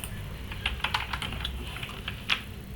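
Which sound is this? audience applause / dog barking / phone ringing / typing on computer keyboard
typing on computer keyboard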